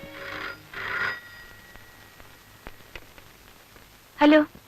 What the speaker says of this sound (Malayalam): ഫോൺ ബെല്ലടിക്കാൻ കുറെ നേരമായല്ലോ